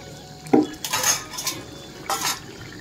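A pot of potato and pointed gourd curry being handled on a gas stove, with a metallic clank followed by scraping utensil and pot sounds in two bursts, moderately close.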